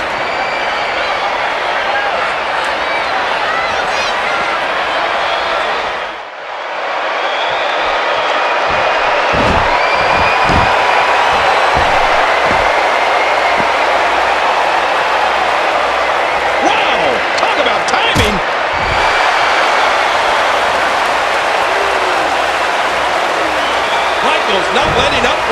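A wrestling arena crowd in the WWE 2K14 video game roars and cheers continuously, with thuds and slams from the ring cutting through, while commentators talk over the noise.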